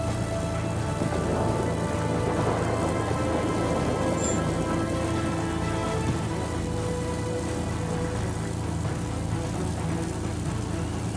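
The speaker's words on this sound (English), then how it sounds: "Advised, a line of thunderstorms is approaching." Rain in the World of Warplanes video game keeps up a steady dense hiss throughout under a distant low rumble, with a faint tonal hum and no distinct thunder crack standing out.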